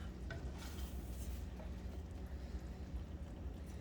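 Ground beef cooking in a pan gives a low, steady, faint sizzle with a soft continuous rumble and an occasional light scrape, heard alone.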